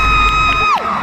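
At a student showcase at UiTM Puncak Alam, the audience lets out a loud, sustained, high-pitched whoop of cheering that holds steady and then drops away sharply near the end.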